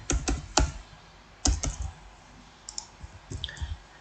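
Someone types a file name on a computer keyboard in quick irregular bursts of sharp clicks, with short pauses between clusters of keystrokes, close and clear with no talking.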